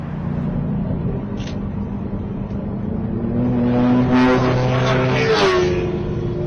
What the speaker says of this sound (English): a motorbike has just done some of the most dangerous driving I think I've ever actually witnessed